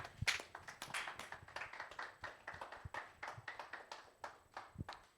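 A church congregation claps in a steady, rhythmic beat, the many hands sounding soft and somewhat distant, with no voices over them.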